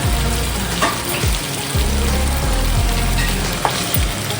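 Bitter gourd pieces fry in a spice paste with a loud, dense, close sizzle, broken by repeated low thuds and scrapes from stirring.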